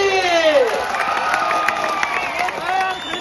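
A crowd at a wrestling event claps and cheers for wrestler Sikandar Shaikh, a dense busy wash of applause and shouts under a loud announcer's voice.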